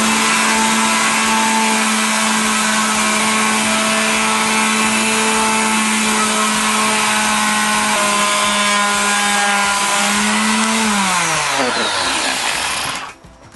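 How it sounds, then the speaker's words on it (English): A vibration pad sander buzzes steadily and loudly with a constant hum while sanding two-part wood filler on a wood repair, then winds down in pitch and stops near the end. "you've got one of these vibration pad sanders is quite a good way to do it"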